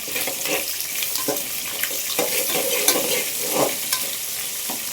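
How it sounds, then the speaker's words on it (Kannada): Potato, onion and rice for tomato pulao fry in a pan, a close, lively sizzle broken by repeated scraping stirs of a spoon, with no voices. "ಚೆನ್ನಾಗಿ ಫ್ರೈ ಆಗಲಿ"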